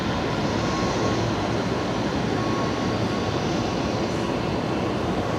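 A Kalitta Air Boeing 747 taxiing at Brisbane Airport, its engines a steady, loud, broadband roar and low rumble that holds level throughout.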